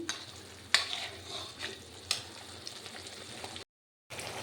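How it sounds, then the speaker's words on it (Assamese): Spices stirred in hot oil in a pan for vegetarian Assamese matar paneer, a close, steady sizzle broken by sharp spoon scrapes and knocks, then a brief silent gap before the frying resumes. "এতিয়া মই এইখিনি অকণমান লৰাই আছোঁ, অলপমান তেলটো মানে ওপৰলৈ নহালৈকে।"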